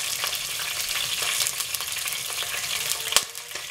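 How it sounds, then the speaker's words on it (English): Vadi fry in hot oil with a dense, continuous sizzle and crackle. There are occasional light stirring scrapes and one sharp clink near the end, close and steady. "vadi is being fried, and in the oil you can put some hing, that is asafoetida"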